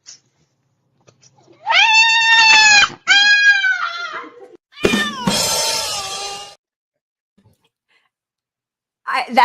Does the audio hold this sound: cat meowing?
yes